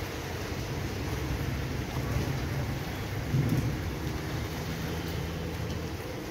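Steady rain pours in a dense continuous hiss in Udaipur, India, with a low rumble of distant thunder swelling briefly partway through.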